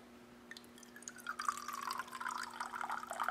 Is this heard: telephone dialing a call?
no